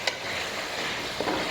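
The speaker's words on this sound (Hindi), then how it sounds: "इसको इसके साथ हम फ्राई करेंगे ऑयल के साथ और अदरक लहसुन के साथ" Mutton pieces fry gently in oil with ginger and garlic, a soft steady sizzle close by with a couple of faint stirring clicks.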